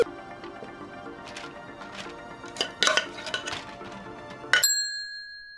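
A tray of Korean-style spicy pork ribs goes into a kitchen oven amid metallic clinks and clatter of dishes, ending in a bright ringing ding, close and moderately loud.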